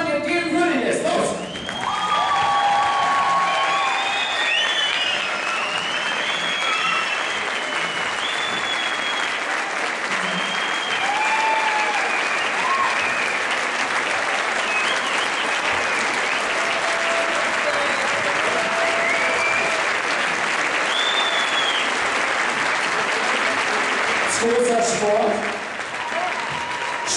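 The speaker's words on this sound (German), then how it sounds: "Und jetzt möchte ich einen Applaus hören, der dem würdig ist." A standing audience at a winter festival gymnastics exhibition applauds loudly and continuously for nearly half a minute, with cheers, whoops and children's shouts rising over the dense clapping before it tapers off.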